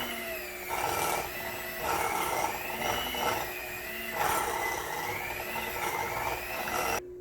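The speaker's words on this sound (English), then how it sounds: "we're going to use our handy dandy little mixer" A hand mixer whirs steadily while beating cheese danish filling, a loud continuous motor drone that pulses slightly as the beaters move through the bowl, with no talk.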